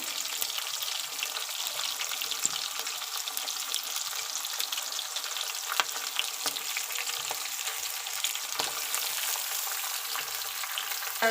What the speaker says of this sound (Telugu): ఇదైతే చిల్లీస్ కొద్దిగా వేగాయి కదా, తర్వాత ఆనియన్ వేసుకున్నాము.